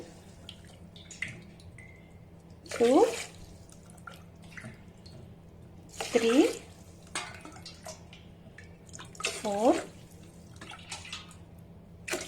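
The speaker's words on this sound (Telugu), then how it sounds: "ఇప్పుడు ఈ 2 కప్స్ రైస్కి 5 కప్స్ వాటర్ పోస్తాను" Cups of water poured onto rice in an electric rice cooker, three separate gurgling pours spaced a few seconds apart, close and moderately loud, with a voice counting quietly between them.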